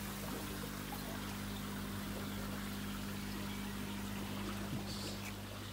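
Koi pond filter churning water, a steady low bubbling and trickling hum that runs continuously at moderate level with no talk over it.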